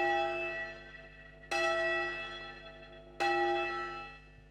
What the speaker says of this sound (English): So the bell starts facing down, and you can take it to a point where you can stop the bell for a few seconds